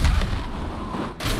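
A gunshot rings out in Marvel's Spider-Man, a single loud booming blast at the start that trails into a rumbling tail, followed by a second burst near the end.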